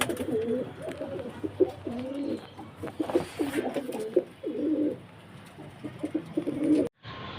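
A flock of pigeons that had recovered from a virus, kept in Aurangabad, Maharashtra, coos in repeated soft throaty phrases, close and steady. Calls overlap now and then, with no voices present.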